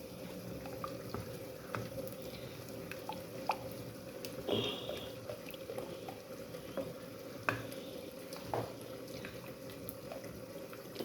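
Yogurt frying in masala for aloo matar curry, giving a low, steady sizzle with scattered soft stirring scrapes and small clinks, close and unhurried, with no voices.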